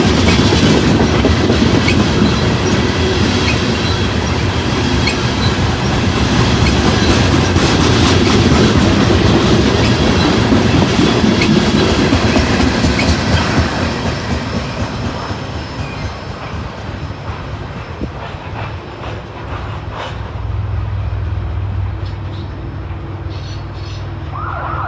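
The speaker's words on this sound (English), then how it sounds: "this is one of the quietest trains I've heard in quite a while" Freight train heading toward Chattanooga rolls past fields at harvest time, its loud rumble and clickety-clack of cars fading after about fifteen seconds, with a short siren-like tone near the end.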